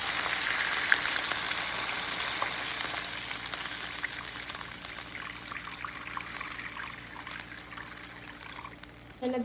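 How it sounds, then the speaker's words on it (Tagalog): Water poured into a pan of sardines sautéed with garlic and onion, a continuous trickling pour mixed with hissing sizzle from the hot pan, steady and close for several seconds before stopping. "Lalagyan natin siya ng tubig."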